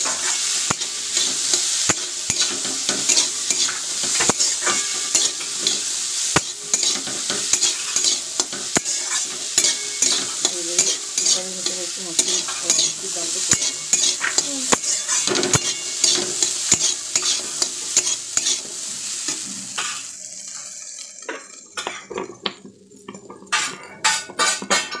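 Food with turmeric and salt being stirred in a hot pan, a loud continuous sizzle with constant scraping and clinking of a spoon against metal, close up, easing toward the end.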